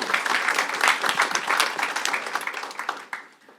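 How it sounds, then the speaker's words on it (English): An audience at an intern symposium claps for a student speaker, full and fairly loud at first, then thinning into scattered claps and fading out near the end. "So round of applause for JJ."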